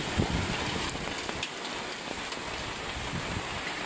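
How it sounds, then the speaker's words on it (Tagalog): Heavy rain from Typhoon Ulysses pours down steadily in a dense, loud hiss, with strong wind mixed in and no one speaking. "Kita mo yung lakas ng ulan."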